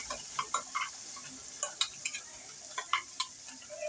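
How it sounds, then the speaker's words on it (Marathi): Masala paste of coriander and other ground spices stirred into hot tempering in a pan for a fish curry: sparse scraping clicks of a spoon at an irregular rhythm over a faint, steady sizzle, with no talking. "व्यवस्थित ढवळून घ्यायचा ढवळून घेतल्यावर थोडा राटराट राटराट होक लागला"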